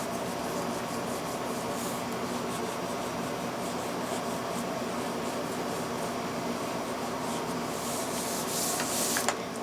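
Burnishing tool rubbed steadily across paper for a baby mini album, a close, continuous scraping rasp that holds at an even level throughout with no talk.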